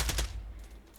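Rapid bursts of gunfire ring out in a VR shooter game, two or three sharp loud shots in quick succession at the start, then a fading tail with faint trailing noise.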